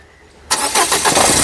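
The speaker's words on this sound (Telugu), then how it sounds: "ఔర్ ఎక్ బార్ గాడి స్టార్ట్ करो" After a moment of near quiet, a 2017 Renault Scala RXL engine cranks and catches abruptly, settling into a loud, close running rumble.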